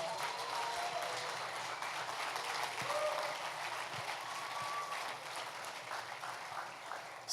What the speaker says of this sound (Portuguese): abençoe Jesus com um aplauso